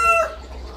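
A chicken gives a short, close vocal burst, a single brief call that fades quickly, alone with no talk.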